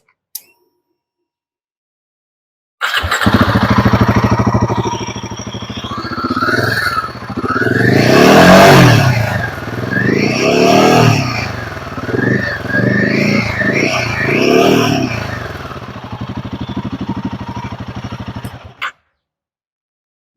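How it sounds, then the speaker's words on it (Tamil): Royal Enfield Himalayan 450 motorcycle exhaust, loud and close, revving repeatedly with engine pitch swelling and falling across several blips before settling into a steady, throaty idle. "எக்ஸாஸ்ட் நோட்டு நான் காமிக்கிறேன் பாருங்க, சூப்பராக இருக்குது"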